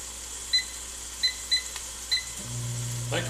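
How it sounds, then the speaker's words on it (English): A microwave heating mashed potatoes: a few short keypad beeps, then its low steady hum starts up and runs on, fairly quiet at close range. "Microwave noise in the background to heat up mashed potatoes."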